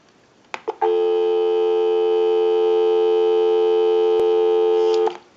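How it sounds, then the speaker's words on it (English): Steady telephone dial tone from a Western Electric 2554 wall phone, a loud continuous hum lasting several seconds after a couple of clicks, then cut off. "Go ahead and give you some dial tone."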